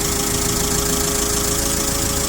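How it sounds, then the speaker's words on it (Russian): A Mitsubishi FG15 1.5-tonne forklift's four-cylinder carburetted petrol engine runs steadily close up, a dense even clatter with a faint knock and no talking. "Мотор 4-цилиндровый, бензиновый, повторюсь"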